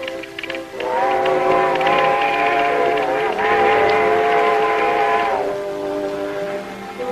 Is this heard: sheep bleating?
no